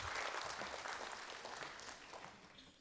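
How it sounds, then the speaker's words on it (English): Audience at a candidates' business forum applauding the candidates, a dense burst of clapping that starts full and gradually tapers off across a few seconds. "I'll invite the audience to applaud the candidates in their opening remarks"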